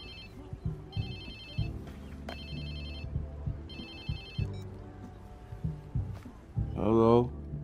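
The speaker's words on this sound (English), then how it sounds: "Whose phone is this?" A mobile phone ringtone rings in the video game Watch Dogs 2 in repeated bursts of electronic chiming over a background music track, then a voice speaks briefly at the end.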